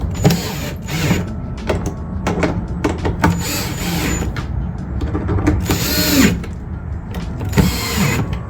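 Four screws go back in on a Husqvarna/KTM/GasGas dirt bike, with repeated whirring bursts from a power driver and mechanical creaks, close by and steady.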